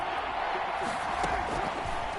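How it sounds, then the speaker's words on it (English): A steady, dense crowd roar from a football video game swells as a big third down approaches, filling the whole stretch at an even, moderate level. "The crowd getting into it as we come up on a big third down."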